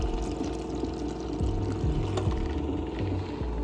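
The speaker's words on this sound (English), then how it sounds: "I literally add water to this" Water poured from a container into a cup of homemade Starbucks-style iced coffee, a continuous close gurgling pour with a steady liquid rush and no talk.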